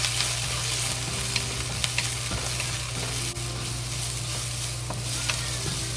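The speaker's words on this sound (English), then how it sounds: "Scallion, carrots, and half cilantro into it, and slowly fry." Scallion, carrots and cilantro fry slowly in a pan with ginger, a loud, steady sizzle running throughout with occasional small pops and crackles, and no voices.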